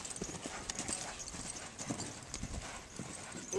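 Hooves of a ridden mare clip-clop in a quick, uneven rhythm, fairly faint and close, with some background noise and brief voice sounds in between.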